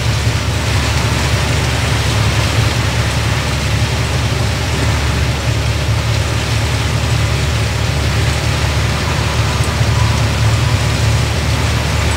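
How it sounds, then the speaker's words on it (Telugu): Heavy rain pelts down on a car without letup, a loud dense hiss of drops drumming on a nearby surface. "వైపర్ వేసినా పడుతూనే ఉంది, వర్షం పడుతూనే ఉంది."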